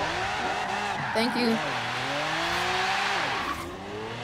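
A 4GT race car in a racing video game revs with rising and falling engine pitch and squealing tires, while someone talks over it.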